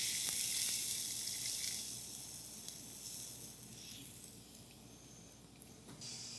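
Rosette cookie batter fries in oil that may be too hot, giving a strong, steady sizzle that starts loud and eases slightly, with faint clinks of the iron.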